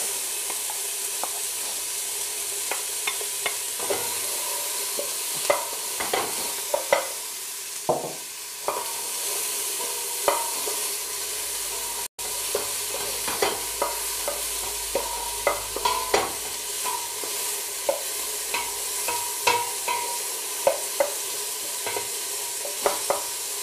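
Peppers frying for chilli are stirred in a pan, giving a constant loud sizzle broken by regular scraping and tapping of the utensil, close up with no talking.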